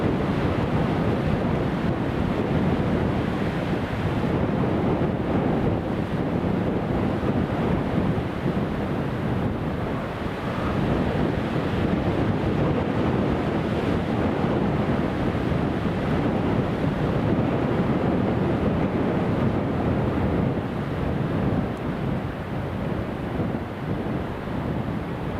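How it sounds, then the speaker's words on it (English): Strong gusty wind buffets a microphone at Newcastle International Airport as a British Airways plane comes in on final approach, a loud continuous roar that persists for the whole stretch without pause. "Oh man, it's so windy."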